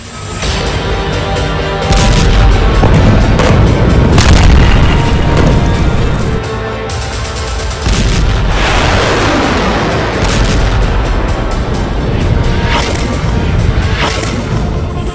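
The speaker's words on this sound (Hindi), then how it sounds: "ये ऐसा बम है जो जमीन के 60 मीटर अंदर जाकर धमाका करता है।" Bunker buster bombs detonate in a series of massive, roaring booms that rumble continuously and very loudly, with one brief lull in between.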